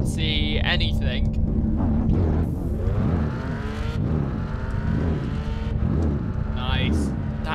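Car engine in the racing game Gran Turismo 5, revving loudly and steadily in repeated rising and falling surges under constant engine roar, with brief higher whines.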